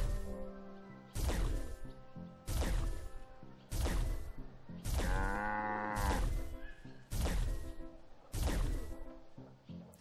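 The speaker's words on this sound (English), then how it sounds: "Gonna milk this cow dry." Cow mooing while being milked in the video game Wytchwood, with a series of about seven loud, evenly spaced thumping impacts and one drawn-out moo in the middle.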